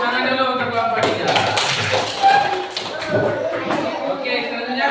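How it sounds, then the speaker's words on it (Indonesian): Classmates clap for a student group after its presentation, a steady patter of quick light hand claps and taps running throughout, mingled with voices talking over it. "Tepuk tangan dulu untuk kelompok 3."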